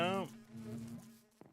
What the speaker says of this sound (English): Oh, there's bees in that one